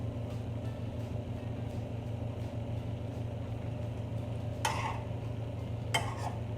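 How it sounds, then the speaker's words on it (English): Stir-fry sizzles quietly in a pan under a low steady hum, with two short bursts of louder crackling as food is stirred. "Get everything sizzling."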